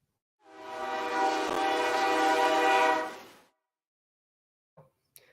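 A train horn sound effect blares as one sustained, loud, rich tone lasting about three seconds, then cuts off, followed by a couple of faint brief knocks near the end.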